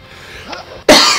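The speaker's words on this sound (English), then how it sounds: "Excuse the cough." A single sharp cough bursts out close and loud after a quiet moment, short and harsh, alone without speech.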